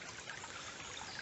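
A river flowing beneath a small stone bridge near a railway bridge in the North York Moors, giving a steady, continuous trickling wash of water with no pauses, fairly faint and even throughout.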